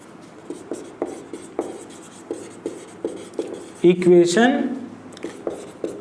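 Chalk or marker strokes on a board in a maths class, a series of short taps and scrapes at a steady rhythm with a louder scraping burst near the end, while a teacher talks throughout.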